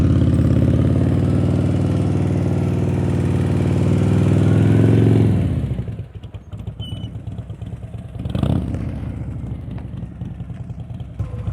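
A motorcycle engine runs loud and close, held at a steady idle-like rumble during slow-speed riding practice, then cuts back sharply to a quieter, uneven putter with a brief swell of throttle later.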